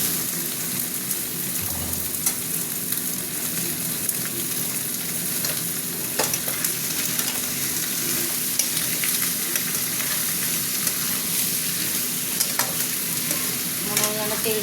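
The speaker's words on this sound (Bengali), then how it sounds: "চিকেনটা ঢেলে দিচ্ছি" Chicken poured into a pan of well-fried onions sizzles steadily in oil while being stirred, with occasional scraping clinks of the spoon against the pan throughout, close and continuous.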